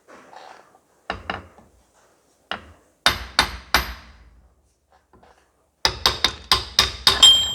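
A hammer drives a rear crankshaft seal into a John Deere 1640 tractor: sharp metallic blows, a few soft ones, then a run of three, then a quick burst of about six ringing strikes, with no talk.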